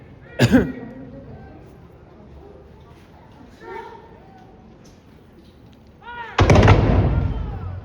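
A musket volley at a Battle of Bound Brook reenactment cracks out nearby, a sharp report early on and a louder, rolling crackle of many shots near the end, with shouting voices in between.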